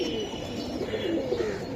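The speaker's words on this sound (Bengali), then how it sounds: "কালারিং এর জন্য সুন্দর একটা কবুতর, সিলভার কবুতর" Silver pigeon giving a soft, rolling coo in short repeated phrases, close by over a steady background murmur.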